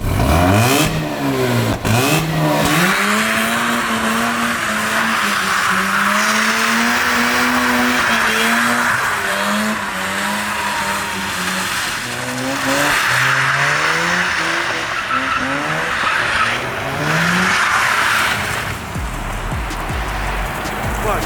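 Mazda RX-8 rotary engine started and driven, a steady loud engine note rising and falling in pitch as it revs throughout, with voices talking over it.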